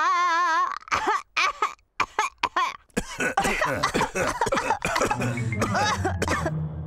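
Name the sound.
adults coughing in Peppa Pig cartoon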